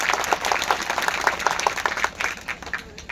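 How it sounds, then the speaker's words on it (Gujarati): Audience at a live village comedy show breaks into steady, dense applause, many hands clapping close and loud for about three seconds without a pause. "એમને એક જોરદાર તાળીઓથી વધાવો"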